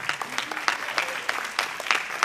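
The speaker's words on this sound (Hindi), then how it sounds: "आप सभी को तालियां खूब तेज बजाना चाहिए" Audience applause at a Republic Day patriotic singing and dancing competition in Vidisha: a steady, moderately distant patter of many hands clapping, with no voices.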